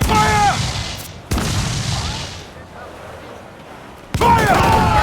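Ship cannons firing in the Assassin's Creed 4 Black Flag video game: loud booming blasts at the start, again after about a second, and once more near the end, each trailing into rumble, with shouting voices over them.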